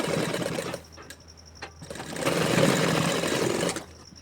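A sewing machine stitches a topstitch finishing seam along a collar neckline, running in steady close whirring bursts with a brief pause between runs, no talking.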